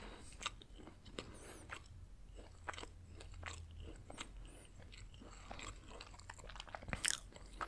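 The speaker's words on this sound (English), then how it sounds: "let me just shut up and enjoy this dang cookie" Close, crisp crunching and chewing of a cookie, with irregular bites and softer mastication over a quiet background, nobody speaking.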